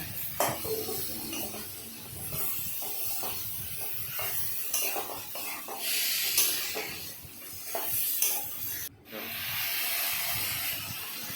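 Chicken pieces rubbed with salt, turmeric and oil are stirred together with whole garlic in a pot, giving a hissing sizzle with repeated scraping and clinks of a spoon against the metal, close up and steady with no talking.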